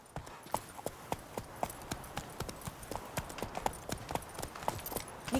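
Hoofbeats of the horse Roach in The Witcher 3 video game: a steady, brisk clip-clop of hooves at close range, alone, with no speech.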